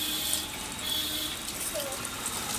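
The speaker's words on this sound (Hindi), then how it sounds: "सोलर पैनल से मोटर चला रहा है, पानी निकल रहा है।" Water pours steadily from a small Chinese 12V DC motor pump running on solar power, a continuous even splashing gush with no talk.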